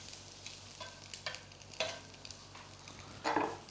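Vegan French toast frying in a pan, a soft, quiet sizzle with occasional light scrapes and taps of a utensil, growing briefly louder near the end.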